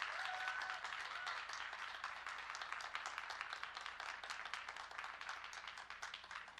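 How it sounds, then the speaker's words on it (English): A conference audience applauds a speaker onto the stage with a sustained burst of many hands clapping, fairly close and full, briefly joined by a faint whoop or whistle near the start before easing slightly toward the end. "Round of applause"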